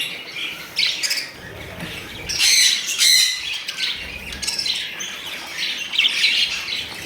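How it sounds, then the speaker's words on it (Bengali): A large flock of more than 300 budgerigars squawks and chirps at once, a dense, busy chatter close by, with loud bursts rising and falling. "প্রচুর পরিমাণে বর্দি পাখি আছে"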